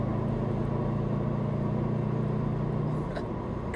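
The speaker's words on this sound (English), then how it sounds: "I'm trying to hear that turbo spool." A Subaru WRX STI's turbocharged engine holds a steady, loud drone from inside the cabin, droning on evenly for several seconds before easing slightly near the end.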